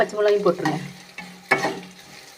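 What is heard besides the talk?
frying dal, curry leaves and green chillies in oil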